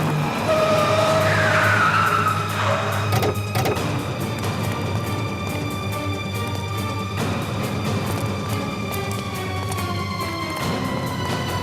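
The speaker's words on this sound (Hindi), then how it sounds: "लगता है टायर पंचर हो गया" A car skids after a tyre puncture on a road through a forest, a loud continuous grinding, scraping rush with a rising squeal early on, steady and close for the whole stretch with no talking.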